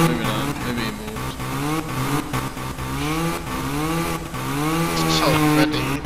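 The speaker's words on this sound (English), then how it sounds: "So many. So many chainsaws." Many chainsaws run together during a huge commercial fire in the firefighting game EmergeNYC, a steady overlapping engine drone with wavering pitch that fills the whole stretch.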